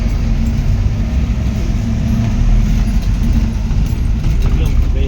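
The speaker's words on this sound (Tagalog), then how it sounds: "Ang laki pala ng truck na yun" A big truck rumbles past with a loud, steady low engine and road roar that stays dense throughout, with people talking over it.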